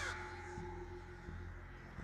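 Crows on a university campus give harsh alarm caws, a couple of sharp calls heard at moderate distance against a faint outdoor background, with no talk.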